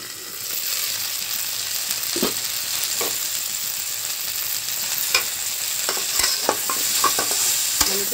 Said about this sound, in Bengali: তেলের মধ্যেই সবজিটাকে পুরো আমি সেদ্ধ এবং ভাজা করব।